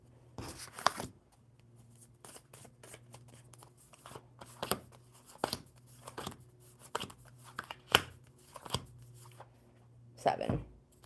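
Playing cards are shuffled by hand on a live coffee-and-cards stream in a series of crisp riffling bursts, each a second or so apart, over a low steady hum at close range.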